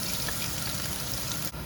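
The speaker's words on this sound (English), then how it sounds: "So we're cooking the garlic and the ginger." Garlic and ginger frying in a home kitchen pan, a steady close hiss of sizzling oil running evenly throughout without pause.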